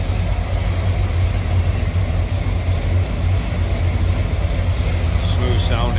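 A 1985 Chevrolet C10 with a four-barrel Edelbrock carburetor and MSD ignition idles steadily nearby, a low continuous rumble that stays even throughout with a faint voice briefly heard late.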